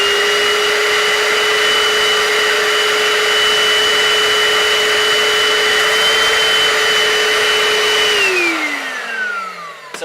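Small portable carpet cleaner motor running loud and steady for about eight seconds while spraying a heavily soiled fursuit, with a sustained whine that then winds down as the motor is switched off.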